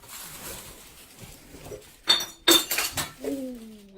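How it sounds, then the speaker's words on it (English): A glass bottle smashes in an abandoned old house, two sharp bright crashes followed by scattered tinkling shards and clinks, fairly close and loud against a quiet room. "after that bottle smashed"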